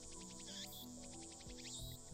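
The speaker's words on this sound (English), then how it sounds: "where the cries of the cicada resound" Cicadas cry at a quiet, deserted shrine in the Steins;Gate game, a faint, layered drone of repeated pulsing chirps with a few sharper calls rising over it and no talking.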